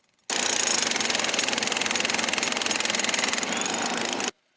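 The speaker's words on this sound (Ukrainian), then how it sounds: "Для роботи задіяли, зокрема, відбійний молоток." A jackhammer breaking asphalt during pothole repair starts abruptly and pounds in a fast, loud, continuous rattle for about four seconds, then stops.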